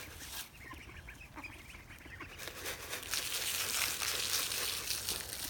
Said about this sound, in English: So, hungry ducks.